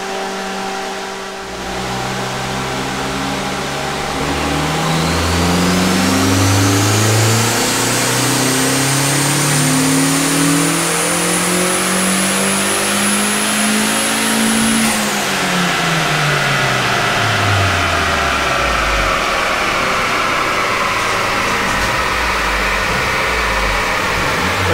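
A 1.8T Mk2 Golf GTI with a big GTX2867 turbo revs hard on a dyno, engine note climbing steadily for about ten seconds with a rising turbo whistle, then dropping away and settling, loud and close.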